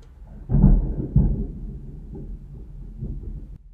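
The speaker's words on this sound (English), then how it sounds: "I don't know if you guys just heard that thunder" Thunder rumbling in the distance, low and muffled, with two deeper rolls early on that fade into a soft lingering grumble.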